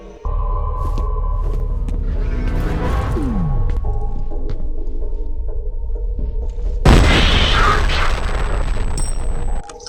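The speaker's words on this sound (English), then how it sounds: "The grenades are also great with their explosion effect" Grenades go off in the first-person shooter FEAR, with a loud booming blast and rumble, then a second sharper burst of crackling debris near the end, sustained and dense throughout.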